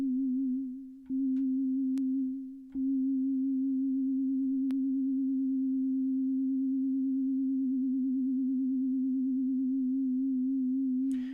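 A steady, pure synthesizer tone holds at one low-mid pitch throughout, with a few brief clicks near the start and faint wobble toward the end.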